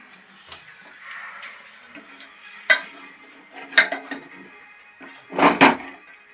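Spoon scraping and knocking around a cooking pot while masala is stirred with a little water added, in a few separate bursts of clatter, the last one longer and louder, with quiet stretches in between.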